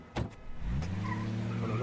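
A taxi cab pulling away from the curb, a couple of sharp knocks followed by an engine rising into a steady hum as it moves off, fairly close.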